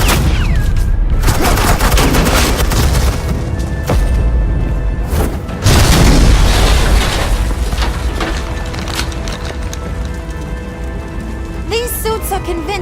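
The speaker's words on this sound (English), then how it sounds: "suppressing fire" Dense suppressing gunfire in Batman: The Enemy Within, loud overlapping bursts and rattling shots that swell and ease, with a heavier boom near the middle and the firing continuing to the end.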